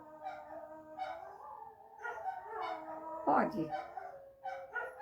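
A dog barks and howls close by in drawn-out, wavering cries with short yips between them, while a person says a brief word partway through.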